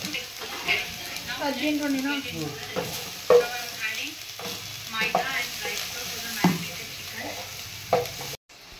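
Chicken frying in a pan and being stirred, a steady close sizzle broken by scraping spoon strokes and knocks, with faint voices now and then.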